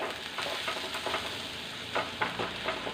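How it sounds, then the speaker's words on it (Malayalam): Onions and other ingredients for a Kerala-style mango curry sauté in a hot pan with a steady close sizzle and occasional stirring scrapes, and no one speaks. "ഏകദേശം വഴന്നിട്ടുണ്ട് ഒരു ശകലം കൂടെ ഒന്ന് വഴന്നാൽ മതിയേ"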